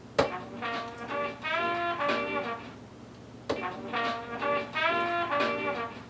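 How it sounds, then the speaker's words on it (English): Two bright funk horn stabs sampled from a JBs record ring out in a repeating phrase, brassy and punchy, each burst opened by a sharp hit and separated by a short gap. "The second main sample is the horn sample"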